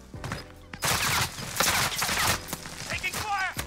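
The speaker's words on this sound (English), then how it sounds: "Taking fire!" Gunfire in a battle royale style video game, a rapid run of loud shots crackling through the middle of the stretch, with game effects and some player chatter around it.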